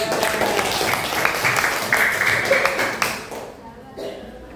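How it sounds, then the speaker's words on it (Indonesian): Classroom group applauding a student presentation group, steady clapping for about three seconds, then tapering off, with voices murmuring underneath. "Yang tepuk tangan untuk kelompok 2"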